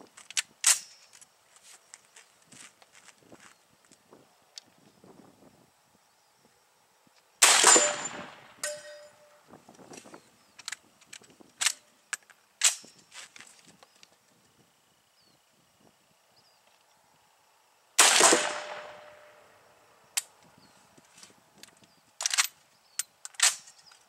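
FN FAL rifle fired at an outdoor range: two loud sharp shots several seconds apart, each followed by ringing decay, with scattered metallic clicks and handling clanks in between.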